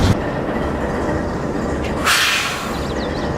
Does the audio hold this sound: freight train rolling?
yes